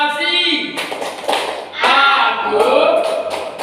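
Children in a classroom perform a group clap routine. Loud, sharp hand claps land at regular intervals between their chanted lines, close and prominent.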